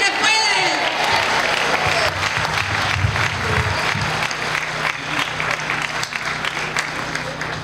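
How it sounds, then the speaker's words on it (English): Sustained, loud applause from a large crowd at a farmworker union commemoration rally, steady clapping throughout with some cheering voices mixed in. "Let's give them all a big round of applause."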